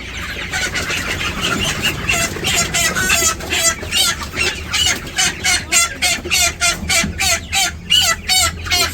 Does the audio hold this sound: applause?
no